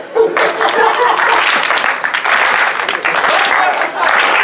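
Closing-ceremony crowd bursts into applause after a brief quiet moment, the clapping swelling quickly into a thick, continuous wash that holds near full volume, with scattered voices audible beneath it.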